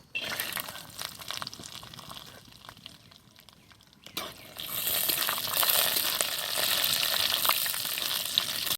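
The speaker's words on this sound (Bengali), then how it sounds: "বাদাম ভাজা হয়ে গেছে এবার উঠাই নেবো" Peanuts frying in hot oil for a Bengali mankochu (giant taro stem) recipe give a steady close sizzle that drops to a quieter stretch, then returns louder and fuller for the rest, with no talking.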